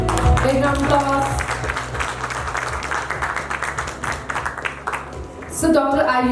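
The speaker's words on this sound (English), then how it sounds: "Big round of applause." Graduation audience at a university felicitation and pre-departure ceremony for future doctors, applauding loudly and continuously in a hall, with a brief voice and music-like tones returning near the end.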